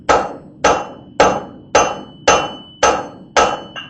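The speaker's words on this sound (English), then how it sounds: "you just hit it with a cross peen, flip it, take it up by the tong, hit it with a cross peen" A blacksmith's cross peen hammer strikes a hot welded wire blade seven times in an even rhythm. The blows are sharp, loud, close metallic hits, each with a brief ringing decay and no talk.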